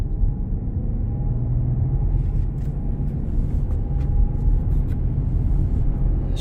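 A 2022 Porsche Cayenne Coupe with 63,312 miles is driven in sport mode, giving a steady low engine and road rumble heard from inside the cabin, with faint clicks and no talking.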